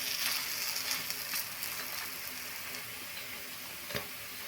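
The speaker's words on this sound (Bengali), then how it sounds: "এখন মিডিয়াম ফ্লেমে রেখে গ্যাসের আঁচটাকে আমি পকোড়াগুলো মুচমুচে করে ভেজে নেব" Drumstick leaf pakoras deep-frying in oil over a medium gas flame give a soft, continuous sizzle with faint ticking crackles and one brief knock near the end.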